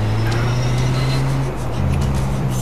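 Road traffic at night in GTA: San Andreas gives a steady, close engine hum, with a brief dip partway through.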